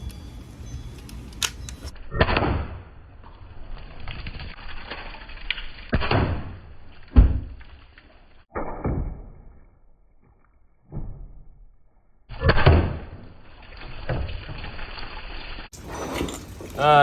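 Shots of 68 caliber domed slugs fired through a chronograph: several sharp, loud bangs or thumps spaced a few seconds apart, each with a short decaying tail and quiet gaps between.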